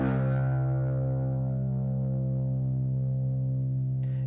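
A single low open sixth string on an electric guitar tuned down to drop C rings out alone, sustaining steadily and clean with a strong fundamental and slow fade, close and upfront.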